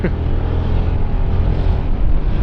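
Steady road traffic in San Mateo, Rizal: a continuous low engine rumble and passing-vehicle drone, fairly close and constant, with no talking.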